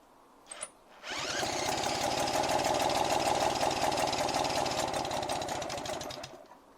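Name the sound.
British Seagull outboard motor running, flooded carburettor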